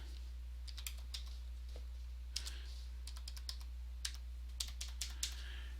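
Keys on a computer keyboard are typed in short irregular bursts of soft clicks, fairly close and quiet over a steady low electrical hum, with no talking.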